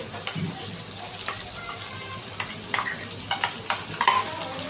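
A spoon scrapes and turns a masala mixture in a pan with steady soft strokes over a gentle background sizzle, close by.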